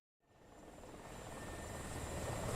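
An Mi-24 helicopter in flight in a combat video game: a faint engine and rotor drone swells in from silence and grows steadily louder, with no talking.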